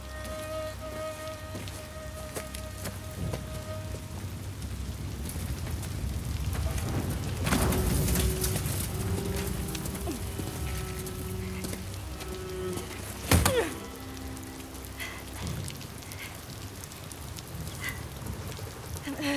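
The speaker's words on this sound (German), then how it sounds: "Ja, es hagelt im Strömer, die Fackel brennt." Pouring rain and hail in The Last of Us Part 2, a dense steady hiss of drops pattering on surfaces with a sharper crack near the middle, continuous and enveloping.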